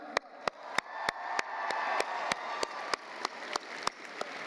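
At an Intel ISEF science fair opening ceremony, a large audience claps for sponsor Intel with a dense wash of applause, marked by sharp, regular loud beats about every third of a second.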